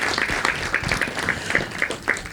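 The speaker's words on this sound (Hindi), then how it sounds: "ज़ोरदार तालियां स्वागत करते हैं" An audience at a theatre event applauds to welcome a guest, with dense, steady clapping that carries on at an even loudness throughout.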